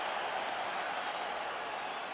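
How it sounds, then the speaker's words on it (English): A dense, steady roar of arena crowd cheering and applause in the UFC 5 fighting game, loud and continuous after a full five-round bout, with no gaps in the noise. "Stand and cheer, ladies and gentlemen."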